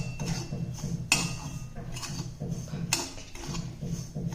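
Semolina (rava) dry-roasting without ghee in a pan over high flame, heard as repeated scraping and clicking strokes of a spoon against the pan in a steady, close rhythm over a low hum.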